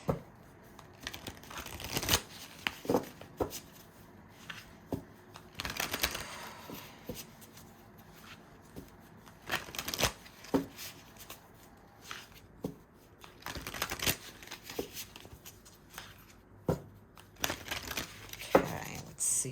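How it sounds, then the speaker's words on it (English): Tarot cards are shuffled repeatedly by hand in quick riffling bursts, crisp and close, with short pauses between each shuffle. "I got to give these a little shuffle, okay?"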